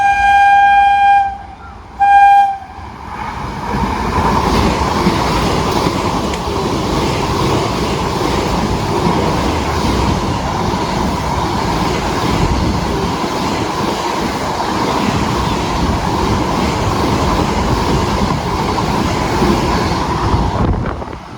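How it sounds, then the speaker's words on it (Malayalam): The Thiruvananthapuram–Kasaragod Vande Bharat express passes through Trikaripur station without stopping. A sustained horn opens it, then a loud rushing roar with rumbling wheels continues for about twenty seconds. "തിരുവനന്തപുരം കാസർഗോഡ് VB വന്ദേ ഭാരതും അങ്ങോട്ടേക്ക് പോയിട്ടുണ്ട്, സ്കിപ്പ് അടിച്ചിട്ട് തൃക്കരിപ്പൂർ റെയിൽവേ സ്റ്റേഷൻ"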